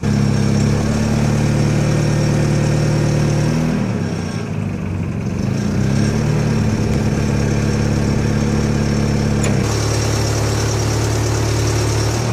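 A forklift engine idles loudly and steadily, then dips and swells in pitch as it is revved while the center control lever tilts the mast up or back, settling to a steady drone again near the end.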